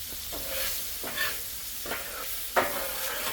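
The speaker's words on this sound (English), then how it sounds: "That's the oil cooking." Oil sizzles and crackles on a hot griddle being cleaned and re-seasoned, with a soft steady hiss broken by brief scraping strokes, close and fairly quiet.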